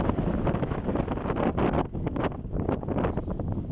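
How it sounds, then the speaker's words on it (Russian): Strong, loud wind gusting across an open field, buffeting the microphone with a steady roar and occasional whistling rises, continuous with no speech. "Пипец, какой же сильный ветер."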